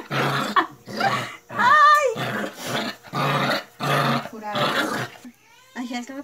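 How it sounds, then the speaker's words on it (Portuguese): A dog growls and grumbles in short bursts close by, broken by pauses, with a person talking through the sounds. "Ele viu o cachorro."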